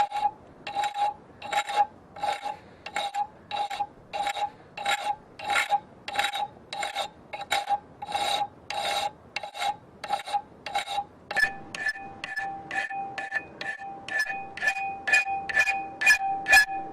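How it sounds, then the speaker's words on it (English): A hand file rasps along a knife blade made from an old file, cleaning up its shape after grinding: steady, evenly spaced push strokes, close and clear, with no talking. "Now we've finished with the grinder, we just need to clean it up a bit with the file"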